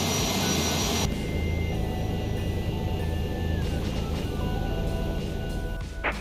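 Boeing 737-800 jet engines spool up in the X-Plane 11 flight simulator, a loud, steady whine and roar that fills the scene continuously, with a shifting tone partway through and no speech over it.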